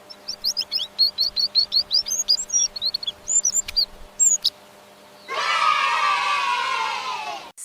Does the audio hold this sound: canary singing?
yes